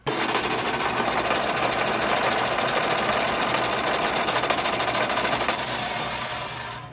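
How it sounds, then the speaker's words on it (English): A saw cutting rapidly, used as a roller coaster climbing sound effect, a dense, loud, steady mechanical rattling buzz that holds constant for several seconds before easing off at the end, with no speech. "the main sound that was used to create the sound of the roller coaster going up was actually a saw"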